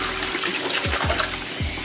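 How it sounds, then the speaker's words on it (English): Hot steaming water runs from a tap into a plugged sink, a continuous close rushing and splashing stream with a few gurgling surges. "I'm just gonna run me some water in my sink, plug it up, make sure it's some hot steaming water"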